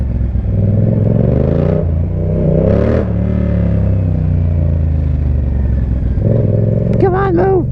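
A Yamaha MT-07 motorcycle engine revs loudly up and down on a downtown street, its pitch rising and falling in several swells, with a voice breaking in near the end.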